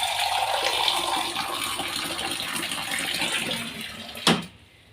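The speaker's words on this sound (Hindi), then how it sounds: "2 ही गिलास पानी डाला है" Two glasses of water are poured into a cooking pot for a curry-style vegetable dish, a steady close splashing stream that ends with a sharp clunk of the glass or pot, then quiet.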